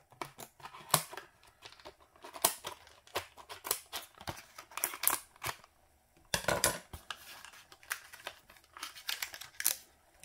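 Scissors snipping and plastic crinkling as a Hot Wheels mail-away package is cut open, a series of close, irregular cuts and rustles with short pauses between them.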